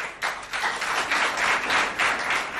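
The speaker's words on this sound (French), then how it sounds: "J'aimerais qu'on applaudisse pour les 2 équipes, s'il vous plaît." An audience at a school competition applauds both teams, giving a lively burst of clapping from many hands that swells and dips in waves, close and fairly loud.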